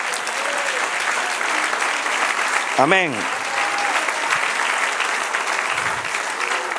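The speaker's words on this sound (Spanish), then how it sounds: "Dale otro aplauso, Señor." Church congregation applauding during a Spanish-language sermon, a steady close wash of clapping with a brief spoken exclamation rising out of it midway.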